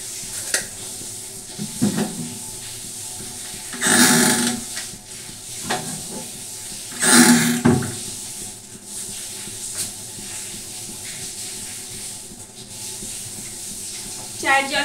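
Tea water bubbles and hisses at a rolling boil in a pot on the stove, with a steady steamy rush and two louder surges of bubbling, close by.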